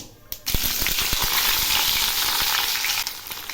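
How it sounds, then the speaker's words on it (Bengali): Green tomatoes drop into hot oil tempered with mustard seeds and radhuni, bursting into a loud, steady sizzle after a few sharp spatters, with scattered clicks and pops throughout and no voices. "এখন আমি দিচ্ছি টমেটোগুলো"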